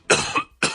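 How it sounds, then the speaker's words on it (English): A person gives two short, harsh coughs close up, the first longer and the second after a brief pause. "you cough a lot, particularly at night"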